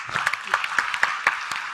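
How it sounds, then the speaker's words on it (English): Scattered applause from a seated audience at a panel session on the future of work, with sharp individual claps ringing out fairly close in a brief burst, with no talk. "Please give her a big round of applause."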